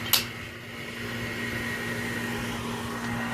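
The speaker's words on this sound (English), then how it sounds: "Yeah, that noise from the air conditioner." An air conditioner runs with a steady mechanical hum and a tonal drone, constant and fairly close, after a brief sharp click at the start.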